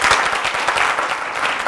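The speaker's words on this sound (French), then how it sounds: "On peut l'applaudir très fort, s'il vous plaît?" Loud, sustained applause from an audience, steady clapping filling the whole moment without a pause.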